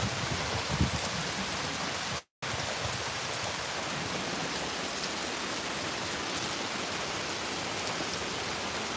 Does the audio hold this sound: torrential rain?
yes